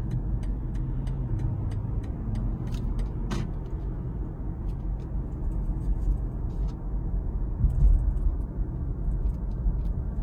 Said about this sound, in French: On va laisser passer la voiture petite sportive.